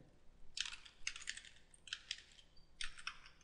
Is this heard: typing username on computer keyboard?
yes